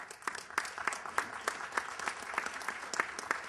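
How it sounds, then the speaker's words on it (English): An audience at a panel event applauding the panel sponsors, a brief burst of moderate clapping with distinct individual claps in an irregular rhythm. "Let's give them a round of applause."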